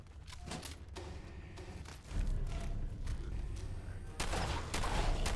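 Shotgun blasts boom in the video game Sim Settlements 2, with several loud, heavy reports in a row and a dense, rumbling layer underneath.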